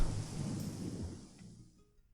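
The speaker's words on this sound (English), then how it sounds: "The rain still wasn't showing any signs of letting up." Rain and a rumble of thunder play as a sound effect in the visual novel Kinkoi: Golden Loveriche, a low rolling roar over steady rainfall that fades away after about a second and a half.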